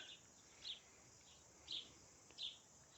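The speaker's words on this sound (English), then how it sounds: "And you can hear the birds." Birds sing in a garden with roses on an autumn day, with three short high chirps spaced apart, faint and somewhat distant over a soft steady hiss.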